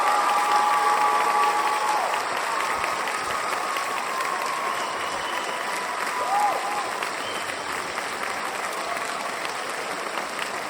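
Audience applause welcoming James Tyberonn to the stage at a talk on the history of Atlantis, a steady roomful of clapping that holds evenly throughout, with a faint murmur of crowd noise beneath.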